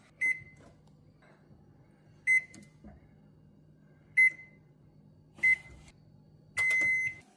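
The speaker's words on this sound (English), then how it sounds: "Now we're gonna set the oven for 275." Oven control panel beeping while the temperature is set to 275 degrees, five short clear beeps spaced a second or two apart with a longer final tone, close by over a quiet kitchen hum.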